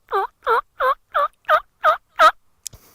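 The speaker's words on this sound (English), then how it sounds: "It's a hen with several jakes in tow." Wild turkey hen calling nearby with a series of seven evenly spaced loud yelps, a young male jake following her, then a brief soft click at the end.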